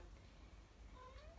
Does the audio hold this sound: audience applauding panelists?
no